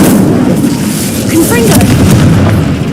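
A fire spell cast during combat in the wizarding game Hogwarts Legacy, heard as a steady, loud roar of crackling flame and whooshing bursts with booming impacts across the whole span, a voice calling out over the din.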